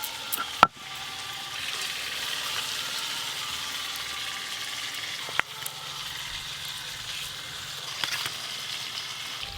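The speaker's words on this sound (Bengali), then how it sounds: "মাছের কাঁটাগুলো ভাজতে একটু সময় লাগবে" Bhetki fish bones fry in a pan with a soft, continuous sizzle, with a few sharp clinks of a utensil against the pan standing out early and midway.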